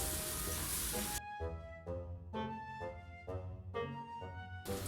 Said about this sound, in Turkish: Biraz kavurmamız lazım bunu